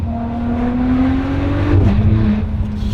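A Ferrari 599 GTO's V12 revs hard at half throttle, its loud, close engine tone climbing steadily before dropping sharply as the throttle is released, then settling into a steady idle.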